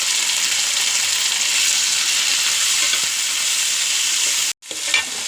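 Tomatoes frying for a chicken curry with potatoes give a loud, steady hiss of hot oil, with a sudden short break near the end before the sizzle resumes.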